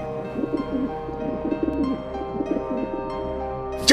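Pigeon cooing softly in repeated low, rhythmic coos, fairly close and alone, ending with a brief sharp noise.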